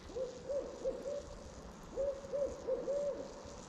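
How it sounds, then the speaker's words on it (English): An owl hoots in two rhythmic series of several low, hollow notes, fairly close and clear against a quiet winter night at a campsite. "listen to our owl buddy for a while"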